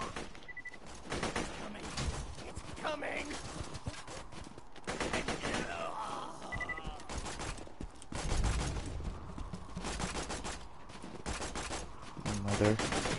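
Gunfire in the video game Borderlands 2, with repeated rapid bursts of automatic shots and scattered single blasts layered over game effects, with someone talking at times.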